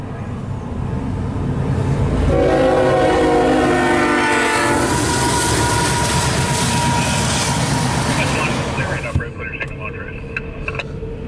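An empty CSX coal train led by an E7 locomotive rolls past, its horn sounding near the start and the steady rumble and clatter of wagons continuing close by, with people talking over it.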